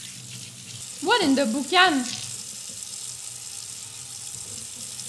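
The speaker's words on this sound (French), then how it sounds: "Non, ferme le robinet." Kitchen sink tap running, a steady hiss of water under the whole stretch, with excited voices talking over it near the start.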